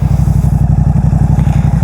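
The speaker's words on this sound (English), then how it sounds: "Motorcycle sounds really good now, man." Suzuki GSX-8R motorcycle fitted with a full exhaust, ECU flash and airbox mod, its engine pulsing loud and close in a steady, rapid throb, heard alone.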